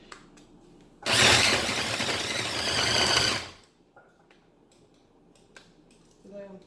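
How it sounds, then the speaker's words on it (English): A kitchen grinder pulverizes fresh pumpkin in a loud, steady whirring burst of about two and a half seconds, starting abruptly and then cutting off, followed by quiet handling clatter and faint background sounds. "I'm gonna grind this fresh pumpkin up"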